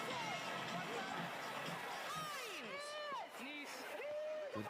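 Crowd noise at a women's rugby test match between Wales and Australia's Wallaroos, a broad steady stadium murmur with scattered whoops and shouts rising over it, continuous and fairly distant.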